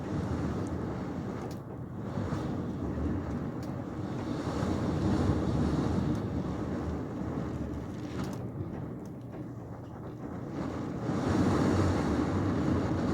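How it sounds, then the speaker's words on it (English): Strong wind gusts with rain batter the outside of an RV in Quartzsite, Arizona, a steady, heavy rushing roar that surges and eases throughout with no talk. "It's really strong gusts out there."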